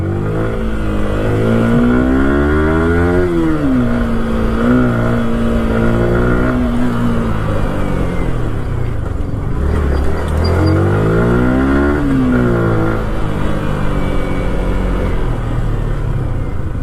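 Engine of a second-hand motorcycle riding on a road, loud and close, with repeated rising and settling revs as it accelerates and shifts, a rumbling drone continuing underneath.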